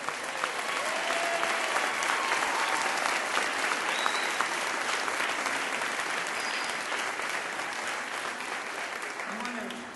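Audience applause for elected officials at a Lane County leaders' assembly in Eugene, a steady dense roar of many hands clapping that holds for the full stretch and tapers slightly near the end, with faint voices mixed in.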